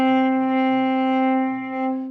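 A bowed cello note with a breathy, airy tone, one steady sustained pitch held alone for about two seconds, rich in overtones with a soft hiss of bow noise under it.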